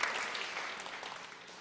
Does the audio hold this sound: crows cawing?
no